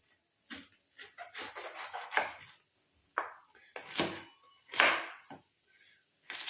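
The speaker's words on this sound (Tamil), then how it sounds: "இதை வந்து நம்ம தோல்லாம் சீவ வேணாம், அப்படியே நம்ம கட் பண்ணிக்கலாம்." A knife cuts unpeeled ridge gourd into small pieces, about a dozen soft, uneven chops and slices against a board, close and fairly quiet over a faint steady hiss.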